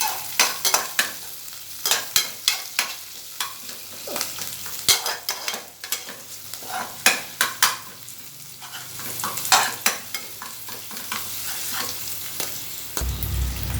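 Ingredients for a herbal kashayam sauté in a pan. A continuous sizzle runs under repeated sharp scrapes and knocks of a spoon stirring them, sometimes fast and sometimes slower, close and clear, with no voices.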